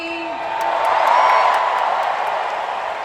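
A large audience at a D23 fan event roars and whoops, the noise swelling into a broad, sustained wave of cheering across a big hall and holding steady to the end.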